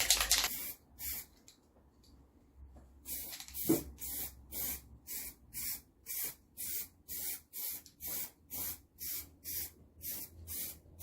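Spray paint or coating applied to a Land Rover Discovery 4 side step in a series of about a dozen short, regular hissing bursts, each roughly half a second long, with brief pauses between; no talk.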